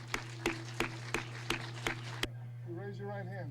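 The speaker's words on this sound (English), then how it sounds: "Let's give him a big round of applause" Applause for the new mayor at his inauguration: a run of sharp, evenly spaced claps about every third of a second over a steady low hum, then a voice begins talking.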